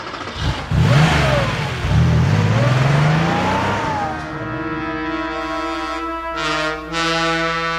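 A car engine in a radio drama revs hard and accelerates, the pitch rising and swooping for several seconds before settling into a steady drone. It is loud and near, with no voices over it.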